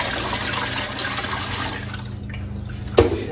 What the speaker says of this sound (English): So now we just got to put some water in here.